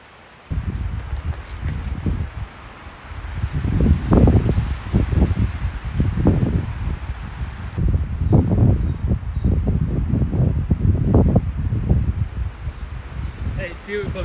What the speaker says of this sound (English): all these trees swaying away. That's all I can hear,